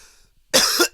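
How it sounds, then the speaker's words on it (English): A close, loud cough right on a microphone, one sharp burst followed by a short second hack after near silence. "Did you have to cough on the mic?"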